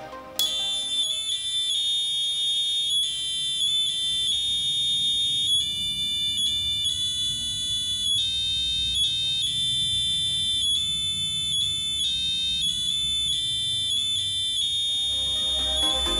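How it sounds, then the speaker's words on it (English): A shrill passive piezo buzzer driven by an Arduino plays a steady, continuous tune of beeping tones, loud and close, running for the whole stretch without pause. "We can use Arduino to play music using passive and active buzzers."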